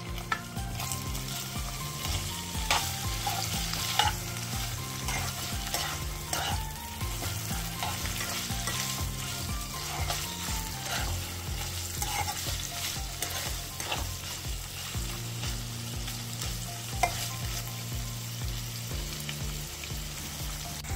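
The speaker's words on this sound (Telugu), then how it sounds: "ఇప్పుడు ఒక ప్యాన్ తీసుకొని అది వేడెక్కాక కొంచెం ఆయిల్ పోసుకొని పన్నీర్ ముక్కల్ని లైట్గా ఫ్రై చేసుకోవాలి." Paneer pieces shallow-frying in hot oil in a pan give a steady close sizzle throughout, with occasional scrapes and stirs against the pan and faint bursts of spattering.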